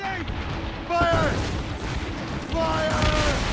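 Ship cannon fire in Assassin's Creed Rogue booms in heavy, rumbling blasts amid battle noise, with shouted crew voices over the barrage.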